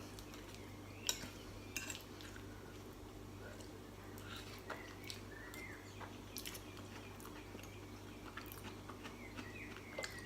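Cutlery clinks and scrapes quietly against a plate while vegan enchiladas with cucumber, tomato, radish and lettuce are eaten, a few scattered sharp taps over a low steady hum, with faint birdsong in the background.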